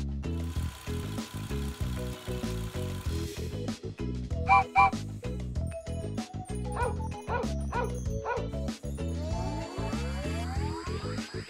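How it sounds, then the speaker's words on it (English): Cartoon dog barking, a run of quick, bouncy animated barks and yips over a steady rhythmic musical backing, loud and close. "Dog."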